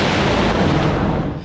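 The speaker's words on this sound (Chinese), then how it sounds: "美军巴尔克利号驱逐舰发射飞弹拦截伊朗的弹道飞弹" The US destroyer USS Bulkeley launches interceptor missiles at night against incoming Iranian ballistic missiles, a loud, close, sustained rushing roar that fills the moment before starting to fade.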